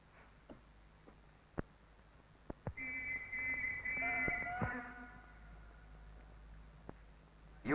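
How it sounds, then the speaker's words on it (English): A tug pilot's whistle on the Thames sounds a couple of sustained shrill blasts, one with a falling pitch, over quiet river ambience with scattered knocks and clicks. "Using a whistle, the pilot signals his orders."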